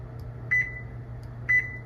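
Kitchen oven control panel beeping while the timer and temperature are set, two short clear electronic beeps about a second apart, close by over a faint hum.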